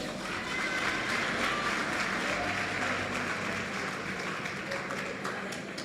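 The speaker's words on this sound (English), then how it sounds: "Another round of applause." Sustained applause from an audience at a youth empowerment event in the Northern Cape, a dense, steady wash of clapping lasting throughout at fairly even loudness, with faint voices mixed underneath.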